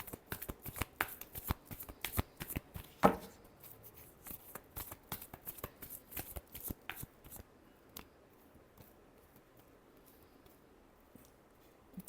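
Tarot cards being shuffled by hand at close range: a rapid flurry of crisp riffling card snaps for about seven seconds, then sparse soft taps and quiet handling.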